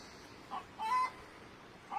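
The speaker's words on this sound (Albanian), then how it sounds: "Këndo gjel, këndo." A rooster crows faintly in a rural Albanian village, giving a couple of brief, distant calls over quiet outdoor background noise.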